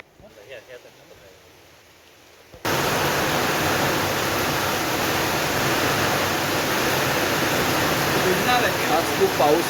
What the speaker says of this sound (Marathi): आज खूप पाऊस आहे.